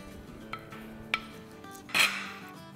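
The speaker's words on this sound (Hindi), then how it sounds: "तो ये तमाम चीज़ों को मिक्स कर लेंगे।" Chopped tomato, green chili and coriander stuffing stirred together in a bowl, heard as a few soft scrapes and clinks of a spoon against the dish with one louder clatter near the end, close and quiet with no talking.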